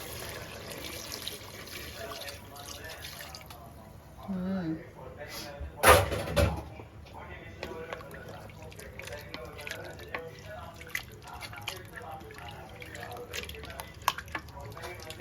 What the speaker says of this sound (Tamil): தண்ணி கொஞ்சம் நிறைய ஊற்றிக்கோங்க